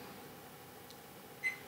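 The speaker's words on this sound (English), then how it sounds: "I do not know why it just beeps on its own like that." A clock gives one short, thin electronic beep on its own, faint but distinct against a quiet room hum near the end.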